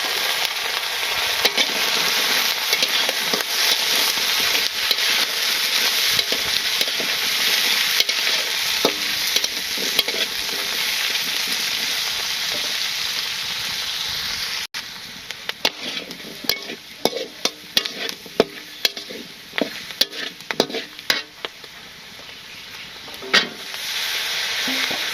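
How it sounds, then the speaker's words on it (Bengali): Sliced potatoes frying with onions in a pan, sizzling steadily with frequent scraping stir strokes, loud and close throughout with sharper clatters in the second half. "আলু কাটা একটু ভেজে নেই পেঁয়াজের সাথে।"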